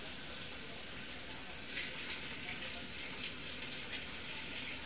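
Hot water runs from a kitchen tap in a steady, even rush with no breaks, filling a measuring cup at moderate distance.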